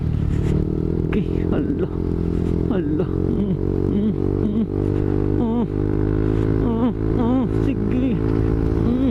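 A motorcycle ridden over a rough, wave-like road during a typhoon: its engine drones steadily and close the whole time, with a low rumble, while people talk over it.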